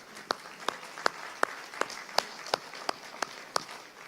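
Rhythmic clapping from a church congregation during a worship service, about eleven sharp, evenly spaced claps in steady tempo over a quiet room, with no voices.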